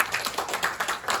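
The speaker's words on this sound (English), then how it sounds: "let's give a big round of applause one more time" Brief audience applause at a home program gathering, a dense patter of hand claps filling the short moment at moderate level.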